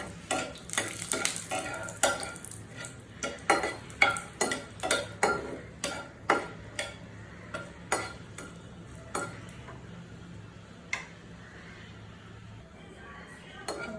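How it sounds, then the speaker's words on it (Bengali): Five or six dried red chillies frying in oil in a pan, with rhythmic clinking stirs against the metal that fade over low, steady sizzling, and no one talks. "আমি এখানে মরিচ দিয়ে দিচ্ছি 5-6টি। এখানে একটু ভেজে নেব।"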